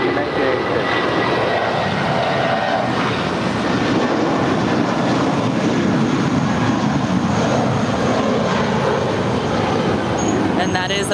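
An American Airlines jet departing Los Angeles International Airport produces a loud, steady roar of engines that fills the whole stretch without letup, with a voice speaking over it.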